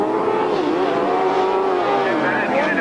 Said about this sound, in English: The revs rise, the tapes go